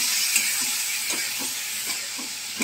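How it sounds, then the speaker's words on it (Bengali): Masala of ginger paste, salt, turmeric, chilli powder and tomato sizzles and hisses steadily in a pan after a little water goes in, with soft stirring scrapes throughout. "এবারে একটুখানি জল দেব, দিয়ে মশলাটা কষাবো।"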